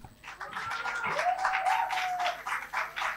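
Students at a speaking competition give a short round of applause, several seconds of scattered clapping close by, with a brief squeak over it.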